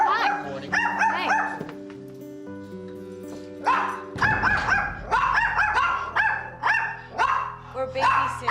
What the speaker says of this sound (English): Taylor barks a lot